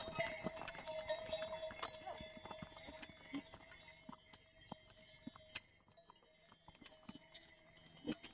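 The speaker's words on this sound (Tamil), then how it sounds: "குதிரையோட மணி சத்தம் பாருங்களேன்." Horse bells jingle and hooves clip-clop on the Kedarnath trek trail, a steady scatter of light metallic ringing and hoof taps from passing pack horses, with people talking nearby and faint livestock sounds in the background.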